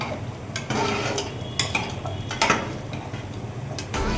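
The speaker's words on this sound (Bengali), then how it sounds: "গরম মশলাটা ভালো করে মিশিয়ে নেব" Garam masala being stirred into thick mutton curry in a pan, with repeated scraping and clattering of a spoon against the metal and sharp ticks on each stroke over a low cooking hiss, close and fairly loud.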